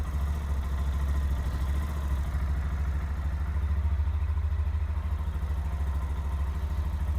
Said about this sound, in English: Let it idle. Let it run through the engine.